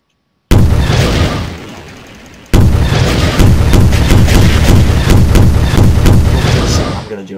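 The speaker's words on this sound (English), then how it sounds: "Oh, nuke already went off." Heavy booming blasts and rumbling nuclear explosions in Garry's Mod, loud and continuous, one big burst then a sustained barrage of dense explosive roars.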